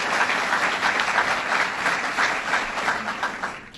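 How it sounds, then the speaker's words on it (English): An audience applauds for the SUNY chancellor at a governor's event in Chautauqua County, a steady, full round of clapping that holds evenly for several seconds before starting to fade. "Let's give her a round of applause."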